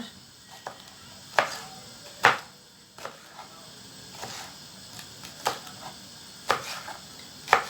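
Irregular sharp knife chops through green peppers on a cutting board, spaced apart, close and crisp against a quiet background.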